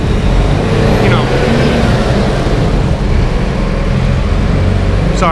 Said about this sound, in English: Sorry, it's a lot of noise.